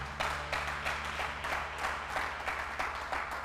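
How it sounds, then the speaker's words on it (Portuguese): A church congregation applauds, a steady run of rhythmic, fairly quiet group clapping with regular beats over a low background hum, no voices over it. "Dá um aplauso, fique de pé."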